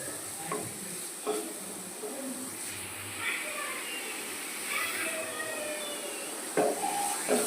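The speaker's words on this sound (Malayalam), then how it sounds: "എണ്ണ ചൂടായി കഴിയുമ്പോൾ നമ്മൾ നേരത്തെ ചോപ്പ് ചെയ്ത് വെച്ച് ക്യാരറ്റ് എടുത്തിട്ട് കൊടുക്കാം" Chopped carrots fry in hot oil for carrot halwa, giving a continuous soft sizzle with occasional stirring scrapes. A person talks over the cooking.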